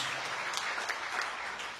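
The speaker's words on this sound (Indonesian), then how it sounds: "Yang percaya tepuk tangan yang meriah bagi Tuhan Yesus" A church congregation bursts into lively applause for Jesus during an Indonesian sermon, a dense, steady wash of clapping at moderate loudness with no talk over it.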